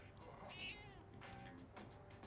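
A cat meows in Persona 3 Reload, one drawn-out, quiet meow rising early on, followed by softer faint mews and light background game ambience.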